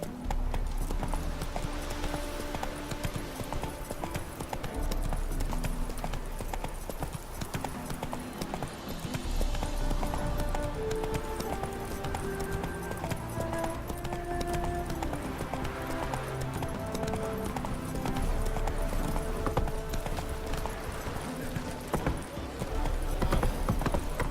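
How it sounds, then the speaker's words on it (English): Hooves of a galloping horse in The Witcher 3 video game beat in a steady clip-clop rhythm throughout, with occasional whinnies, over game music and some voice. "Run, Roach."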